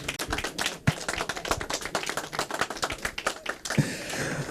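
Applause at a press launch event for the Accra Marathon, a dense burst of many hands clapping close by, steady for several seconds before tapering off.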